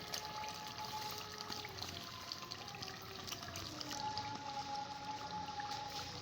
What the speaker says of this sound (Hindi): अब मैं ना इमली भी डाल रही हूँ।